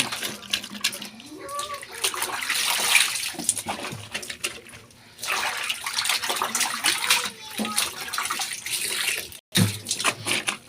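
Water runs from a tap into a basin to soak laundry in a home, a continuous splashing rush heard close up, with a voice and an adult talking over it and a brief break near the end.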